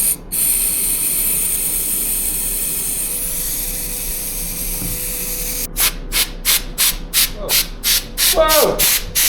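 Intake cleaner sprayed into an Aprilia Tuono 1100 engine that won't run: a long continuous hissing spray, then a series of short rhythmic bursts of spraying, close and loud, with faint background noise.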